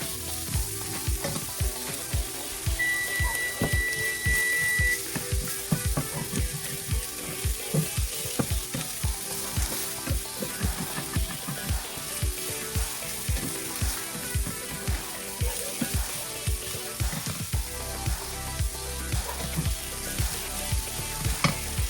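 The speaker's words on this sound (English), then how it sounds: "I'm gonna say about 3 minutes on each side. Onions." Onions fry in a pan for a hamburger steak dinner, giving a continuous close sizzle with repeated scraping and stirring clicks throughout and a brief tonal beep partway in.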